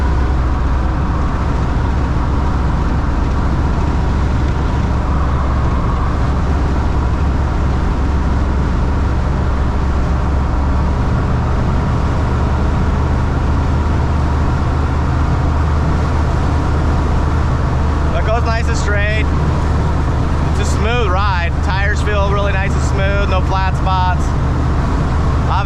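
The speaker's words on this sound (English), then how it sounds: "So you obviously get some wind noise." Steady wind and road rumble inside a 1973 van with a 3-speed automatic, cruising on the highway at about 55 to 60 mph, a constant low drone throughout with brief higher whines near the end.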